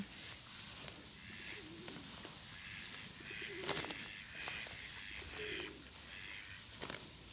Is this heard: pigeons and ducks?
yes